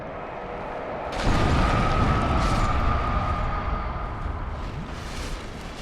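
An enemy blows itself up in Dark Souls Remastered: a sudden heavy blast after a quiet second, then a broad rumbling roar that slowly fades away.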